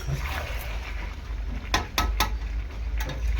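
Chicken and potatoes being sautéed in a pan, a low sizzle under a handful of sharp clinks and scrapes of a utensil against the pan, close and irregular.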